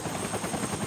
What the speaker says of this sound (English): The whoomp of a Huey helicopter.